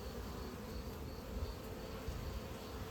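Honeybees on hive frames give off a steady, soft buzzing hum that stays even and fairly quiet throughout, close by, with no voices.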